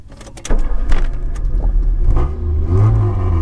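A cold 1984 Volkswagen Rabbit GTI engine being started, a loud close burst of cranking and rough, uneven engine noise that swells and settles into a steady low rumble.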